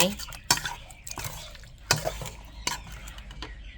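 Chicken dry-roasting in a pan for a Northern Thai steamed chicken dish, stirred with a utensil: sharp scrapes and clacks against the pan at a steady pace over a low sizzle, close and fairly loud.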